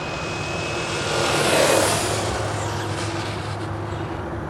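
A brushless Traxxas Slash Baja Bug RC car, running a little slow on a fading battery, whines past, its motor swelling as it nears and fading away, with steady outdoor background noise and no talk.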